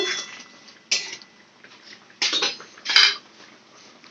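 A spoon clatters and scrapes against a pan while a sweetened vegetarian curry is stirred, in a few sharp metallic bursts with quieter scraping between them, close by and with no talk.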